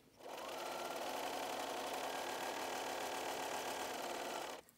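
A sewing machine runs a straight stitch with cotton thread in one continuous, steady whirring burst of about four seconds, close and clear, starting and stopping abruptly.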